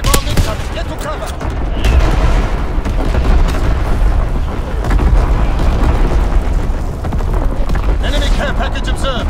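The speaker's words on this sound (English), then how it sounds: "Enemy bomb incoming. Get to cover." Bomb blasts and heavy booming in Call of Duty WW2 multiplayer, sustained loud rumbling gunfire and explosions filling the whole stretch, with voices over the din.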